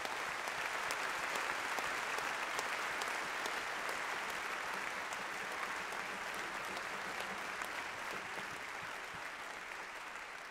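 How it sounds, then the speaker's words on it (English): An audience at a university charter day celebration applauds special guests with sustained, dense clapping that holds steady for about ten seconds, filling the hall without voices. "Big round of applause for all of them."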